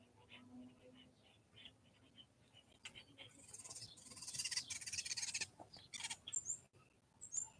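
Birds chirp and call outdoors in short, scattered bursts, growing busier midway, with faint voices and insect-like buzzing underneath.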